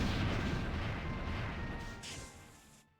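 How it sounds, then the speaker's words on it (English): A giant energy cannon fires in a video game, held by an enemy from the Silent Forest: a loud, deep, rumbling blast that sustains and slowly fades over about three seconds, with no talking. "Giant energy cannon, the guy from the Silent Forest."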